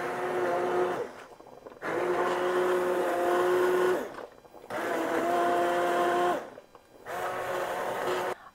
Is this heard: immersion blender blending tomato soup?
yes